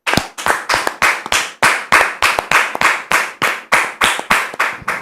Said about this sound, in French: On le reçoit sous vos applaudissements.